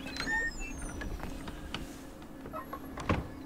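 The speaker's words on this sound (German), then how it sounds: "wie sich ein Schlüssel im Schloss dreht." Key turning in a door lock in the game Throne and Liberty, heard as faint metallic clicks and creaks scattered over a low steady hum, with no speech.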